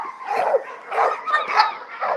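Two show dogs yip, bark and whine close by in a rapid, continuous run of excited vocalizations with no pauses.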